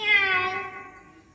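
A single cat meow, a clear harmonic call that starts loud and trails off over about a second, heard close and alone with no talk.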